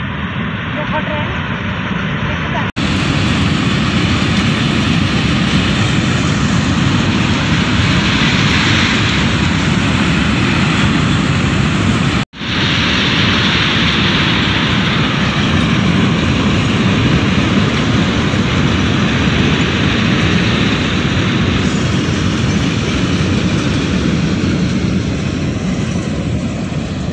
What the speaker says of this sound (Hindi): लो जी ट्रेन देखो आ ही गई, ट्रेन भी आ गई